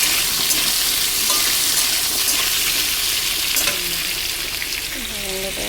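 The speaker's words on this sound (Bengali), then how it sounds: "সবজিটা ভাজা ভাজা হবে, তারপরে পুঁই শাকগুলো দেবো।" Chopped vegetables fry loudly in a pan before Malabar spinach is added, a dense continuous sizzle with soft stirring scrapes close up and no speech.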